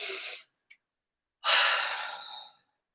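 Two deep breaths in during gentle exercise, close and airy: a short inhale, a pause, then a longer full breath trailing off into silence.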